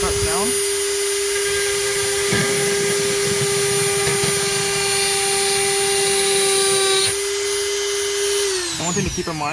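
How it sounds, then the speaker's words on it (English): A power tool plunge cuts during a Honda Accord to CRX climate control swap. It gives a high, steady whine for about seven seconds, then a short stop, then brief revving bursts. "I'm just going to plunge cut down."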